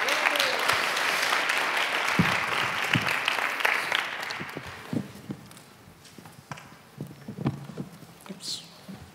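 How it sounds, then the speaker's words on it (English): Warm audience applause fills a conference hall as keynote speaker James Thurston is brought onstage, dense clapping for several seconds that thins into scattered claps and footsteps as the room settles. "A very warm round of applause,"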